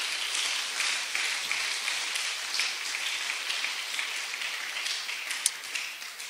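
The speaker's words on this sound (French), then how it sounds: "Donnez-nous une acclamation, Seigneur, Dieu vous bénisse." A congregation at a church service applauds in acclamation, a fairly faint, diffuse patter of many hands clapping that sounds somewhat distant and continues steadily.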